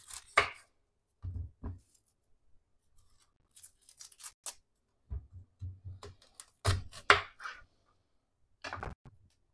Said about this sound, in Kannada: ಈ ಈರುಳ್ಳಿನ ಅರ್ಧ ಭಾಗವಾಗಿ ಮಾಡ್ಕೊಳ್ಳಿ